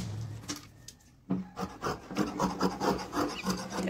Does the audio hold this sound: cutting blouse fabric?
yes